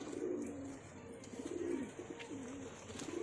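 Pigeons coo in low, throaty rolling phrases at a fancier's loft of highflyer pigeons in Nagpur, several overlapping calls repeating steadily and close by over a faint background hum.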